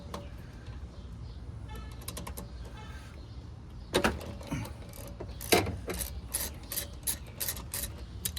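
Ratchet wrench loosening rear wheel bolts on a Honda GL1500 Goldwing motorcycle, quick rapid clicking bursts at first, then louder sharper ratchet strokes in a steady series, close up.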